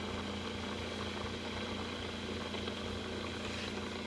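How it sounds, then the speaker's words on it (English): Bedini motor wheels spin down once the coil short is removed, giving a quiet, steady mechanical hum with a faint whirring drone that continues unbroken throughout. "No short, and you can listen to the wheels slow down."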